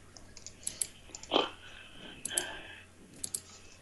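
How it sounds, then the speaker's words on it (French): Sharp, close computer mouse clicks while playing Dofus, arriving in small quick clusters spread across a few seconds against a quiet background. "J'espère que vous n'entendez pas les clics de ma souris."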